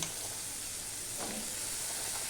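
Small-diced potatoes tumble into hot oil in a pan of frying fish roe and give a soft, steady sizzle, with a brief louder crackle partway through.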